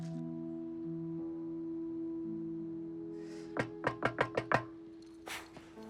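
Seven quick knocks hit a door in an even run over soft background music, followed by one more muffled thud.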